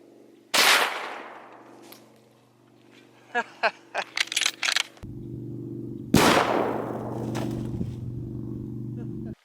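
.223 rifle shots fired with Nosler 40 grain Varmageddon bullets, two loud sharp cracks several seconds apart, each followed by a ringing decay, outdoors with a running engine hum and a voice speaking between the shots.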